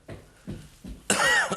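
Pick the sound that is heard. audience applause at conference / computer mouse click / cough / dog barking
cough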